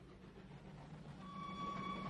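Trains carrying Russian prisoners east in August 1945 rumble faintly and steadily, a low rolling drone with thin, sustained tones above it.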